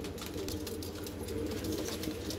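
Low, rolling coos from black Madrasi pigeons carry on steadily at a soft level, with a faint hiss of background noise and no voices.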